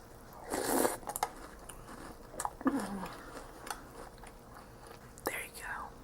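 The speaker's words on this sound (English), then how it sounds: "I'm going to eat my cereal in my underwear for you" A person eats cereal close to the microphone, with soft wet chewing and intermittent crunchy bites in short bursts separated by pauses, all quiet and intimate.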